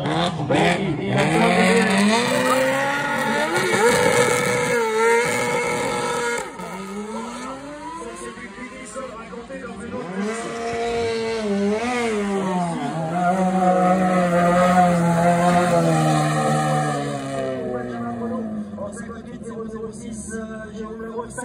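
A Dallara Mercedes F3 race car on a hill-climb course at the Côte de Coligny, its engine wailing loud and rising and falling through gear changes for the whole stretch, with a commentator talking over it.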